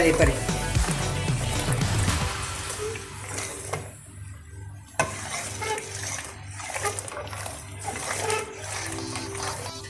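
Grated potato shreds are rinsed in water, with splashing and sloshing at the start. Softer watery stirring follows, mostly under a person talking throughout.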